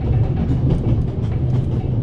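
A train rattling along in the video game The Raven Remastered, a steady low rumble with a continuous clattering undertone, loud and even throughout, with no voices.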